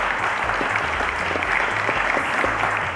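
A studio audience at a televised quiz show claps steadily, producing dense, loud, even applause with no pauses.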